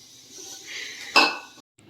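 Dishes, pots and pans clatter and clink while being washed, with a soft continuous rattle building to one louder clang near the middle before the sound briefly drops out.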